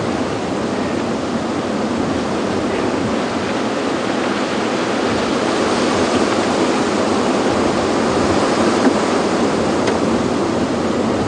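Steady wind roars across the open bush during an afternoon game drive at Djuma Game Reserve, a constant broadband rush with no pauses that fills the whole stretch.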